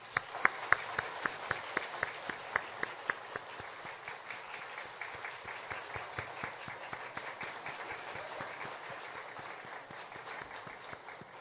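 A Korean church congregation at a Sunday service gives a blessing round of applause for a departing choir conductor, starting with a few sharp, distinct claps and swelling into steady, fairly soft clapping throughout.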